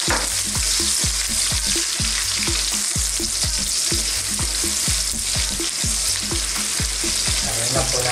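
Garlic and onion fry in hot oil in a wok, a loud, continuous crackling sizzle. Steady rhythmic scraping knocks of stirring sound close throughout, with no voices.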